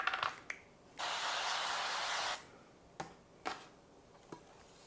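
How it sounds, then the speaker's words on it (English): Avocado oil cooking spray hisses in one steady burst of about a second and a half while two round 8-inch baking pans are greased, with a few light clicks and taps before and after. "I'm just going to grease them with some avocado oil spray"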